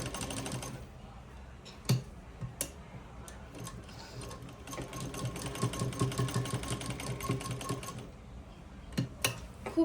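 A sewing machine stitches seams on a cotton umbrella dress, a steady close mechanical whirring that runs through most of the stretch, with a few sharp taps and clicks and a short pause near the end.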